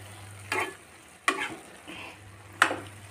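Cumin and onion fry in a pan under a soft sizzle, punctuated by four sharp stirring scrapes of a utensil at irregular intervals.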